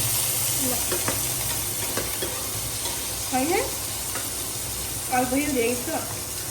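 Fresh fish, including koi, frying in soybean oil in a pan, giving a steady broad sizzle and hiss with occasional stirring, while voices speak faintly in the background.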